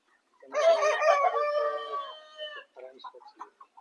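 Kaveri Gavran country chickens at a poultry farm, a loud rooster crow drawn out over about two seconds, followed by softer broken clucks and calls close by, with no talking.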